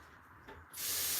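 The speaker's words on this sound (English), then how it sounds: "We're adding water here." Water gushes loudly into a vegetable steamer, a steady hissing pour that starts abruptly after a quieter moment and carries on to the end.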